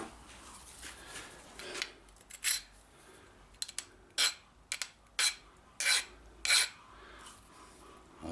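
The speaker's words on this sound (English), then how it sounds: "certainly the file isn't skidding over it" A metal file rasps across a worn metal boat fitting in about eight short, distinct strokes, dry scraping bursts with quiet gaps between, close and unaccompanied by speech.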